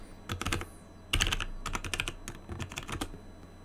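Computer keyboard being typed on at a desk while entering a password, quick irregular clusters of crisp key clicks close up, with no talking.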